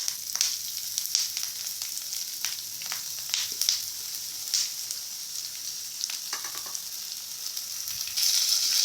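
Grated potatoes fry in a pan with curry leaves, a close, steady sizzle dense with sharp crackles and pops, with a few soft scraping stirs and a brief louder hiss near the end.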